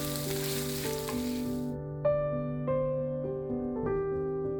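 Garlic sizzling in hot oil for a chicken stir fry with herb paste, a soft steady crackle that fades halfway through, leaving sustained tonal music playing underneath at low volume.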